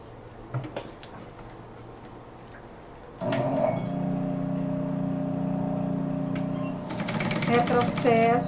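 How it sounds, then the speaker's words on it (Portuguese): A sewing machine stitching a seam on the lining of a cross-body bag, a steady close mechanical whir with rapid needle ticking, starting after a few quiet clicks while someone speaks over it. "Aí agora vamos passar uma costura aqui com o pé de máquina."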